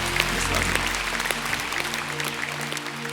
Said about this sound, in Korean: 다시 한 박수 하십시다.